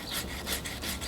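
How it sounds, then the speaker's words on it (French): A Japanese pull saw cuts through a tree branch while a deciduous tree is prepared for bonsai repotting, its close, loud rasping strokes repeating in a quick, even rhythm about four times. "c'est vraiment une scie à tirage"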